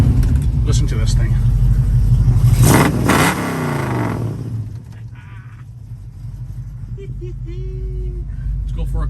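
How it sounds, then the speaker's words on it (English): A 1967 Ford Mustang with dual exhaust roars through a sharp rev, then settles into a deep, loping idle rumble that stays close and loud. "Let's fire this up. I want you guys to hear it really fast. It does sound really, really good."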